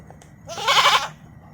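A goat gives a single clear, wavering bleat lasting about half a second, close by and loud against quiet background.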